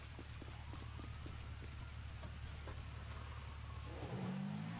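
Steady rain patters throughout in Grand Theft Auto V with a faint engine hum, and a motorcycle motor revs up near the end.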